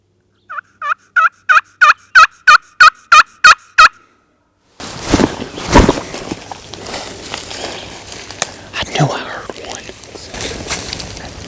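A wild turkey gobbles in the Appalachian Mountains, a rapid string of about ten loud, evenly spaced gobbling notes, followed by rustling, footsteps and hushed whispering from nearby hunters.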